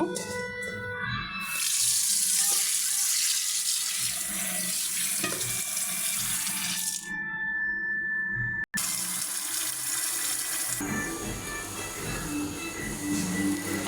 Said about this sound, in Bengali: এটা তো এভাবে ধোয়া যাবে না, গুঁড়া মাছ। আমি চালু দিয়ে ধুয়ে নেব।